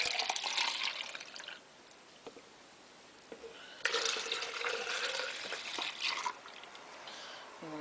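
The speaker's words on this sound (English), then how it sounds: "pour the rest of your milk in." Milk is poured into a container for homemade powdered-milk yoghurt. There are two close splashing streams with a short quiet gap between them.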